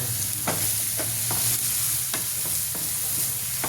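A red masala of onion, tomato and ginger fries in a pan, a loud, constant sizzle broken by regular spatula scrapes and knocks as it is stirred, close up with no talking.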